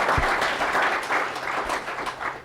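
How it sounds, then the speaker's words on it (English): An audience at a legal tech meetup applauding: dense, sustained clapping from a roomful of people at the close of an evening of presentations, fairly loud and continuous with no talk over it. "one last huge round of applause both for Winston, Strawn, and our 5 companie"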